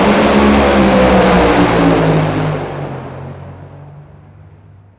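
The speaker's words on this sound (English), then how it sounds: "This is a funny car engine." Nitro-burning funny car engine with low-slung header pipes roars loudly at close range, then winds down and fades over the last couple of seconds.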